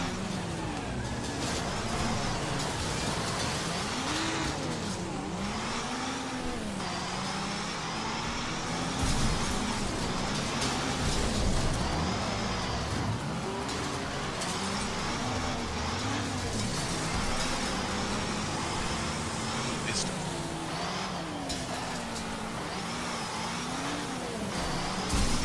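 Car engines racing in the video game Wreckfest, including a DLC car, with a steady loud roar of revving and shifting pitch throughout, dense with other vehicles, under occasional faint talk.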